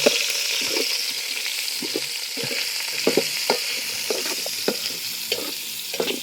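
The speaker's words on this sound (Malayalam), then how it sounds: "നമ്മുടെ ഇഞ്ചി വെളുത്തുള്ളി ചതച്ചതും കൂടി ഇട്ട് കൊടുക്കുക. എല്ലാം ഇളക്കി കൊടുക്കുക." Cloves, ginger and crushed garlic fry in a pan while being stirred, giving a steady sizzle with frequent scraping spoon strokes throughout.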